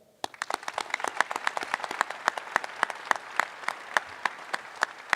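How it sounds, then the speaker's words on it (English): A press conference audience claps in a sparse, fairly quiet round of applause, individual sharp claps clearly distinguishable in an irregular rhythm after a short silent start. "I'd like us to recognize him with a round of applause."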